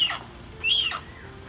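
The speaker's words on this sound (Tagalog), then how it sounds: "hornbill." A bird at a tourist spot in Nueva Ecija gives a couple of short, rising calls over quiet outdoor background, moderately near.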